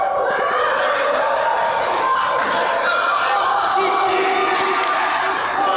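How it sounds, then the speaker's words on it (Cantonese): A crowd cheers and roars loudly and continuously at an under-17 youth football league match between Typhoons and CSA, a dense wall of shouting voices from nearby spectators with no pauses. "後邊嗰啲歡呼聲"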